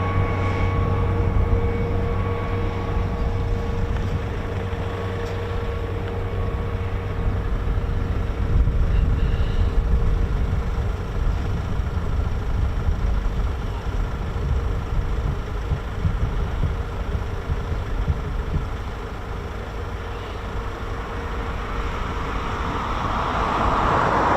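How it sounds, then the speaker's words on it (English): Avro Lancaster bomber engines run at an airfield, a sustained deep droning roar with steady tonal hum that holds for the whole stretch, easing slightly toward the end. "So the Lancaster started up."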